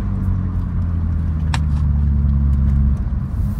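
A BMW 330Ci E46 under acceleration, a deep steady engine drone heard from inside the car, holding a strong low hum for several seconds before easing slightly, with a brief click partway through.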